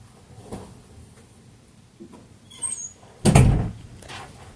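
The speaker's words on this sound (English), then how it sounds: "Can you close my door?" A bedroom door swings shut with one solid thud after a few faint shuffles and creaks, heard indoors in a quiet room.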